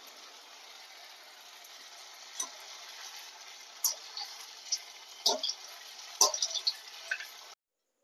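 Pantua sweets fry in hot oil with a soft, steady hiss and bubbling, broken by a few sharper crackles and utensil clicks, fairly faint and close, cutting off abruptly near the end.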